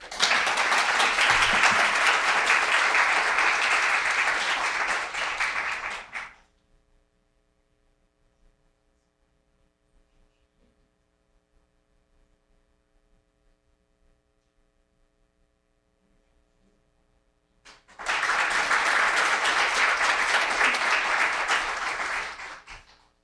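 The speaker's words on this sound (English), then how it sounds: "let's have another round of applause for all of our award winners today" Loud applause from a large audience at a sustainability awards ceremony for about six seconds, then near silence with a faint hum, then a second burst of clapping.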